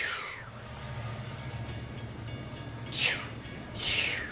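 A train rumbles past near Chuckanut Bay with a steady low drone, broken by two short bursts of a horn or whistle near the end.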